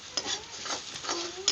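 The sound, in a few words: tomatoes being stirred and fried in a pan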